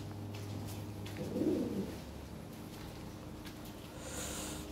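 A big-size Lahori pigeon gives a single short, low coo in the middle, close by, over a steady background hum with a faint high chirp near the end.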